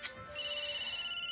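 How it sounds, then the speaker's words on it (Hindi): A phone ringtone rings steadily at night: high, sustained electronic tones start after a brief burst and hold continuously with no talking. "अरे यार कौन फोन कर रहा है इतनी रात को?"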